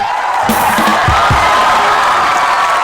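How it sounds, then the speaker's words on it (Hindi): A comedy show audience claps and cheers in a dense, steady roar that lasts the whole moment, loud and close with no break. "तालियां।"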